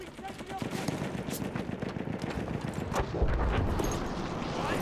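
Rapid bursts of gunfire in Battlefield 1 multiplayer combat, crackling shots and distant explosions running continuously through the whole stretch, with a player's voice talking faintly over the noise.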